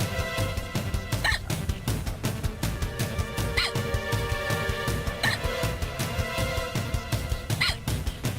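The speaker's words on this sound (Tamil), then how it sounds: "என்னம்மா தண்ணி குடிச்சோ விக்கல் நிக்கலையே?" A person hiccuping in a home, with about four sharp, brief hiccups at regular intervals against busy background noise and low rumbling.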